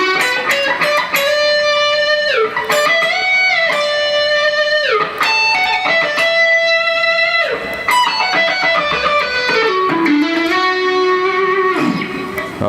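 Electric guitar played with hard, driving down strokes on a riff, loud and close, with sustained chords sliding between positions in a steady, even rhythm and no talking.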